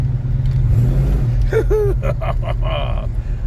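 A 1967 Chevrolet Caprice's 427 big-block V8 revs up loudly a couple of times over a low idling rumble, close by, with a brief breathy vocal sound.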